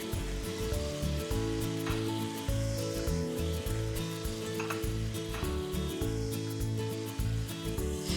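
Onions and spices sizzle and hiss steadily while being stirred through a pan with a splash of stock, for a chunky chilli, with soft scraping from the stirring and background music running throughout.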